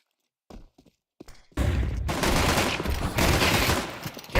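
Sustained automatic gunfire in a Counter-Strike match, loud and continuous bursts after a few quieter thuds and footsteps, with a heavy volley at the end.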